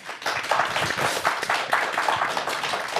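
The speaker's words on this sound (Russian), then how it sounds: "Эти аплодисменты вам." A concert audience applauds a band at a Maslenitsa evening event in Gomel, a lively, uneven patter of many hands clapping at moderate volume for three seconds.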